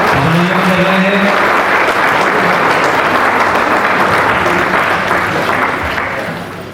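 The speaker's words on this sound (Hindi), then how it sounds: "आप सबकी तालियों के माध्यम से स्वागत कर रहे हैं, अभिनंदन कर रहे हैं" A large crowd at a 108-kundiya yagya gathering claps loudly in welcome, steady dense applause with a faint voice underneath early on, tapering off toward the end.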